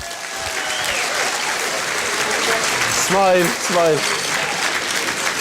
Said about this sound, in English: I think they deserve a round of applause for it.